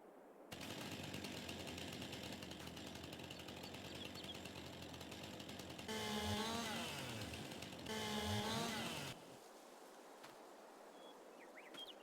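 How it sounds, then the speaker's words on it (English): A chainsaw cuts logs in a survival game, a loud sustained buzzing drone that rises in pitch and strains twice as the blade bites in, then cuts off to a quiet background. "chainsaw. It tells you how long you're cutting the log."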